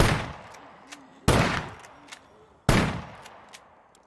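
Three loud, sharp shotgun blasts from the survival video game SCUM, evenly spaced about a second and a half apart, each with a long decaying echo tail and faint clicks between shots.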